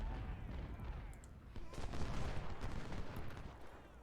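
Dense, continuous musket gunfire crackles through a simulated Civil War battle at Second Bull Run in Ultimate General Civil War, volleys overlapping at steady loudness with no clear breaks.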